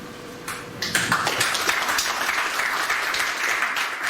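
Church congregation clapping during a sermon, a steady wash of many hands applauding together at moderate distance, with a brief voice near the start.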